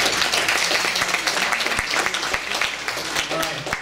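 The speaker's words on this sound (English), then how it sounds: "Let's give him a round of applause." An audience applauds a physician speaker introduced at a talk, loud and close clapping with sharp individual claps standing out from the crowd, plus some voices mixed in over the clapping.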